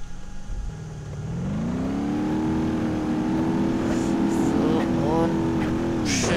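A car accelerating in BeamNG Drive, its engine note climbing steadily and holding a loud sustained drone with revving harmonics, some faint clicks and bumps over the top near the end.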